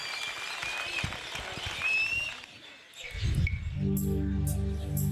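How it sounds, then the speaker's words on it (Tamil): Audience applause and crowd noise welcome a singer onto the stage at a youth talent show, filling the first three seconds before music begins underneath. "ஒரு பெரிய கைத்தட்டலுடன் அவரை மேடைக்கு வெல்கம் பண்ணிடலாம்"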